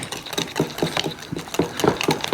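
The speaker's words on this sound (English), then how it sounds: "I'm gonna whisk some of these together." An egg mixture is whisked in a bowl, producing a quick, regular series of close, loud scraping and tapping strokes, roughly four or five per second, with no talking.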